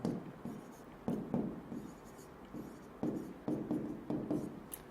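Pen writing a word by hand, soft scratching strokes in short bursts with brief pauses between them, quiet and close, no talking.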